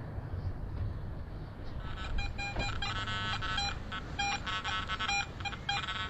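A metal detector sweeping over a buried target at an old crematory site sounds high, piercing tones. They begin after a short stretch of low outdoor noise, then pulse on and off in bursts of varying length.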